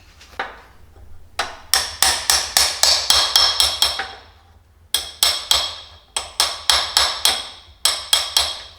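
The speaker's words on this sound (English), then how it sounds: "Let's give it another little bit of a tippity tap." A hammer taps repeatedly on a valve of a 1925 Harley-Davidson J model engine, delivering sharp, close metallic strikes in quick bursts of several taps separated by short pauses.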